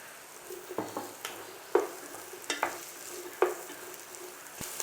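Onion and carrot sauté in a pan for chicken noodles: a soft, steady sizzle with a few sharp spatula scrapes and knocks at an uneven rhythm, close but quiet.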